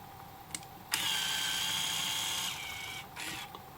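The zoom motor of an Olympus mju ii zoom 170 compact camera whirs close and loud for about a second and a half after a click, then a shorter burst follows, with small clicks in between.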